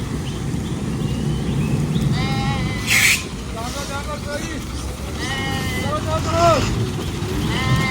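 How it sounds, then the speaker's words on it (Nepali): A flock of sheep in India, herded by dogs, bleats repeatedly at mid distance over steady vehicle engine rumble on a road, with several overlapping bleats throughout. "यताको भेडा हेर्नुहोस् है इन्डियाको भेडा यस्तो हुन्छ"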